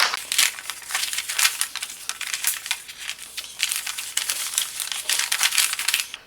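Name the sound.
removing paper cover from wall clock holes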